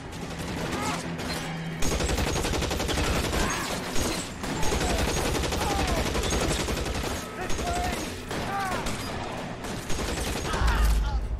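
Gunfire in the video game L.A. Noire, rapid bursts of shots and clattering weapon sounds running almost continuously amid a busy, loud mix with in-game voices.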